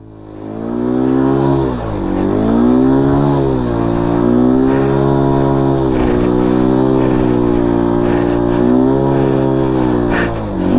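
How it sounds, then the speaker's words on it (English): A car drifting in freezing cold weather, its engine loud and close with sustained revving that rises and falls in pitch across the run, with no voices heard. "See if we can do some drifts."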